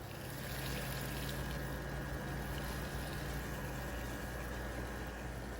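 Water poured onto dry peat moss in a backyard worm bin, a steady close hissing splash and trickle running unbroken, fairly faint, with no talk.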